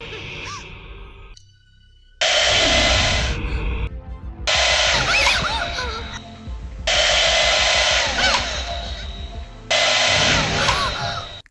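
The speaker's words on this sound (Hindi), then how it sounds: "लेकिन एक बुरी आत्मा संजना को डराने की कोशिश कर रही है bye blowing hair dryer behind her" A hair dryer blows in a horror film scene, its loud broadband whoosh switching on and off in several long bursts, with quieter gaps and faint breathy sounds between them.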